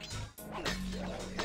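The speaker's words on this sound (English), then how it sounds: "I need to destroy 7 panes of glass in this level for a trophy." Glass panes shattering in a stealth video game level, a short sharp crash with a brief whack, loud and close against steady game background noise.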